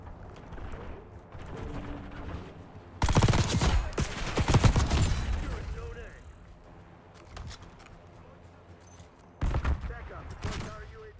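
Gunfire in a Black Ops 6 multiplayer match with sniper rifles in play: sharp, loud bursts of shots in clusters, some rapid and some spaced, with quieter game sounds between them.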